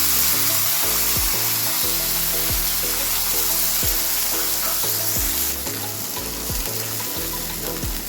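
A paste of ground onion, garlic and ginger fries in a pan for chana masala, a loud, steady hiss of sizzling oil with repeated low clunks of stirring throughout, no talk.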